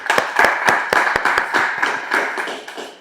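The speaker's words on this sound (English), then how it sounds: "Let's give him a round of applause" An audience gives a speaker a short round of applause, a sparse burst of individual handclaps, close and fairly loud, with no talking over it.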